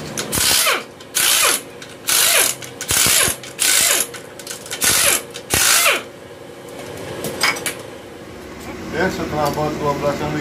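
A ratchet wrench loosens the oil pump bolts on a Toyota Harrier transmission in bursts of quick clicking strokes, about seven in a row, followed by quieter rattling of metal parts and a voice speaking.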